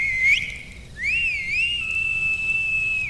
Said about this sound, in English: a deafening whistle pierced the silence